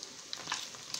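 Meatballs frying in a pan for a meatballs-in-gravy dish, a soft steady sizzle with small crackling pops, close and fairly quiet, with no talking.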